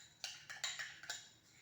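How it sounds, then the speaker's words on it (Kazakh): A spoon stirs a homemade face mask paste made with crushed aspirin, giving about six quick, faint clinks against the bowl in an irregular rhythm in a quiet room. "Осыны араластырып"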